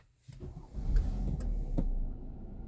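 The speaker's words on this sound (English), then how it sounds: "then start the engine." A Kia Sportage engine cranks and catches after a brief silence, settling into a steady, close idle with a low rumble and a few faint clicks.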